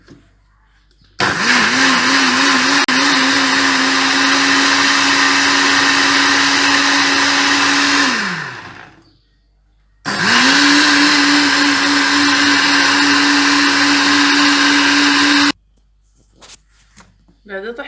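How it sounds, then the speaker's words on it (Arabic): An electric blender grinding soup ingredients, including parsley, for Moroccan harira. It runs loudly in two long bursts with a steady whining motor tone, winding down between them, with a short pause and some handling noise at the end. "وسنقوم بطحنه."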